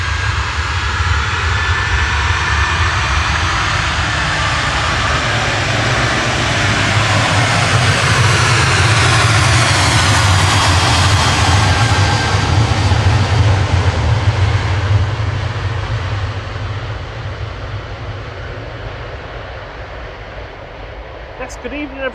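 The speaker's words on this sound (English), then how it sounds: "Ryanair 32169 HQES about to depart to Milan." A Ryanair Boeing 737-800 jet departs Manchester Airport, bound for Milan. Its engines build into a loud, sustained roar that peaks midway and then slowly fades as the plane pulls away.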